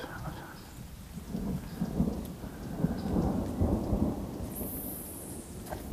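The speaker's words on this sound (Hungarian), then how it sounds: "itt állt össze fölöttünk a viharfelhő, itt kezdett el csak zörögni" A thunderstorm over a river, with a low rolling rumble of thunder swelling and fading beneath steady heavy rain, loud and close throughout.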